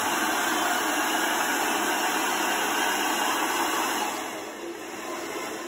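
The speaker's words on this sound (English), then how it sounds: "Try not to have the dryer on a forceful heat." A hair dryer blows steadily and closely while drying a wig, a constant broadband whoosh with a thin high whine that drops slightly in loudness near the end.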